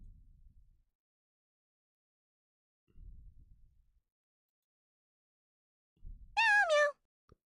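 Elden Ring: Shadow of the Erdtree game audio: a few soft low thumps in near silence, then a single clear cat meow that slides downward in pitch near the end.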